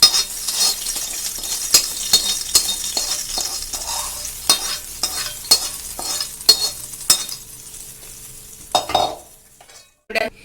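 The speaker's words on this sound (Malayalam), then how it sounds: "ഇത് നമുക്ക് താളിച്ചത് കറിയിലേക്ക് ചേർത്ത് കൊടുക്കാം" Tempering poured into Kerala-style moru curry with raw plantain sizzles loudly, with a steady hiss broken by repeated sharp clinks of a ladle against the pot, close up, fading out near the end.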